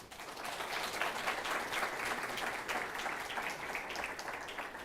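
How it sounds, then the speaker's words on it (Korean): Church members at a Sunday service applaud to welcome a speaker to the front, a steady, full wash of clapping from many hands at moderate volume that runs the whole time without voices. "우리 나오실 때 박수로 좀"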